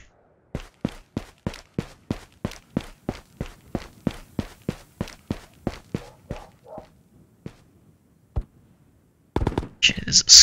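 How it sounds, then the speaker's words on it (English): A long run of sharp, evenly spaced gunshots cracks out in a steady rhythm in the game Ghosts of Tabor, trailing off into a few isolated shots, followed by a brief burst of voice. "Can hear gunfire."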